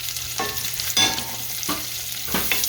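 Bacon and diced onion fry in a pan with a continuous close sizzle, interrupted by a few distinct scraping stirs of a utensil.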